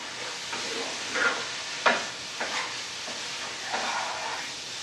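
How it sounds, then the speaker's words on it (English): Taco filling sizzles in a pan on the stove, a steady frying hiss with occasional louder crackles and stirring scrapes. "We'll have some good sizzle."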